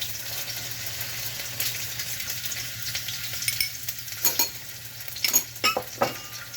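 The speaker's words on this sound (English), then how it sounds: "okay, I'm going to fry it" Sliced ginger and garlic sizzle and crackle in a hot pan, a steady close fry with occasional stirring scrapes and clinks of a utensil against the pan toward the end.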